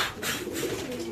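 A white racer pigeon, a hen bird, coos softly at close range in a single short burst, with no other sounds around it.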